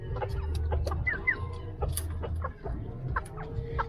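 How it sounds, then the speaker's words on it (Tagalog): Purebred Philippine jungle fowl (labuyo) cluck with short, scattered calls close by, over a low background rumble, no talking. "Ito yung ating purong labuyo."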